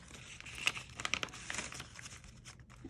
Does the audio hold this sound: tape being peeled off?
yes